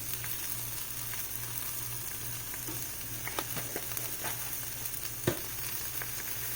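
Brussels sprouts with smoked paprika fry in a pan with a soft, steady sizzle and a few faint stirring knocks.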